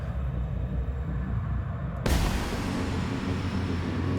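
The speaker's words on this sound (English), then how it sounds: "but it does the explosion regardless" A sudden explosion in the video game The Outer Worlds bursts in midway as a loud, broad boom, preceded by quieter game ambience and followed by a sustained roaring rumble.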